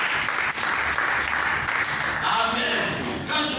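A church congregation claps together in a dense burst of applause, loud and close, with a voice speaking over it.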